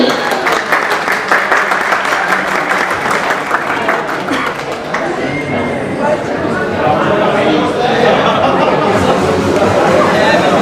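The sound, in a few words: audience applause at Realme 14T phone launch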